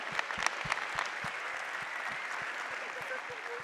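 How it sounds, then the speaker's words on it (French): An audience applauds award winners at a training trophy ceremony, steady dense clapping throughout with a few sharper claps near the start, fairly close and sustained. "On peut les applaudir vraiment très fort."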